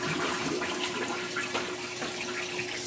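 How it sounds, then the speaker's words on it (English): A toilet flushes with a steady broadband rush of water throughout, loud and close, with a faint tonal whine running under the gurgle during a bathroom cleaning. "So, second flush."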